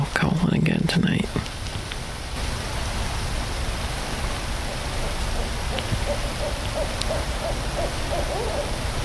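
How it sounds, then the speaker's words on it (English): An owl hoots at night near a campsite at a sewage plant, a series of faint, distant calls over steady hissing background noise, after a person speaks briefly at the start. "We got the owl calling again tonight."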